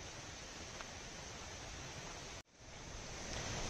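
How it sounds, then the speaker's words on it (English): Water pours steadily over a reservoir spillway, a broad, continuous roar of rushing water that cuts out for a split second and then returns, loud and unbroken. "hopefully you'll hear me a lot better over the sound of the waterfall behind me, or rather the reservoir behind me"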